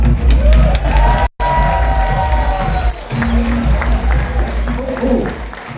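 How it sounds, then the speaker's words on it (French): Audience applause with cheering and whoops greets Christophe Lambert at the Excelsior kick-off party. Voices and a sustained tone run through the loud, continuous clapping, which swells briefly after a short cut. "je vais compter sur vous vraiment pour lui faire un tonnerre d'applaudissements"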